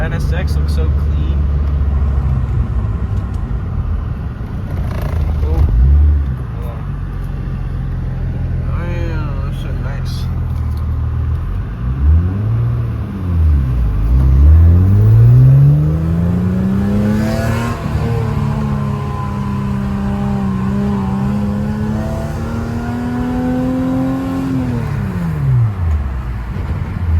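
Acura TL with a swapped 3.7-litre engine, six-speed manual, Comptech exhaust and J-pipe, cold-started and revved repeatedly, with several rising and falling rev sweeps up close; people talk over the engine.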